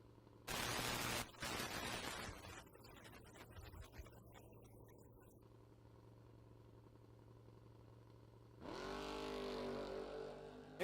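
A bracket-racing drag car launches at a drag strip with a sharp, fairly distant engine roar, drops to a lower drone, then surges again with a rising howl as it pulls away down the track.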